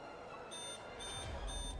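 Electronic alarm blaring steadily in a tense medical emergency scene, a continuous high beeping tone that swells louder over a low rumbling background.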